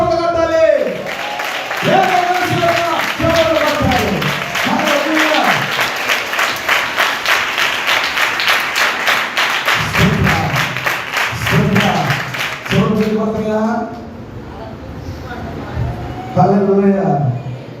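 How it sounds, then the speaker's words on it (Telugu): A church congregation claps steadily and rhythmically throughout, a dense, continuous patter, while a preacher's voice and chanted responses ring out over it and briefly drop away midway. "నిలకడ కలిగిన చప్పట్లు కొట్టాలి."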